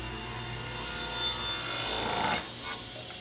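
A hand blade works old church-pew wood in a quiet shop, making a continuous soft rasping scrape with a couple of stronger strokes swelling and fading.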